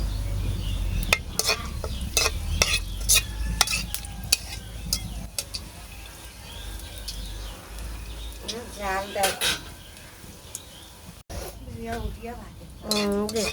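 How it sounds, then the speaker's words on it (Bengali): Ginger garlic paste sizzles in hot oil in a pan for khichuri, with a steady frying hiss, repeated sharp clinks and scrapes of a stirring spoon, and a voice talking briefly over it near the end. "তেল গরম হয়ে গেছে আর কিছু দিন না আদা রসুন বাটা সব দিয়ে দিছি"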